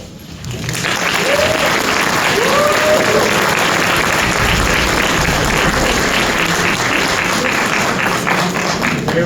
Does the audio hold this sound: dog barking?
no